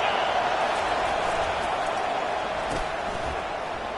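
A packed stadium crowd at an LSU versus Florida college football game keeps up a loud, steady, unbroken roar that holds its level for the whole stretch.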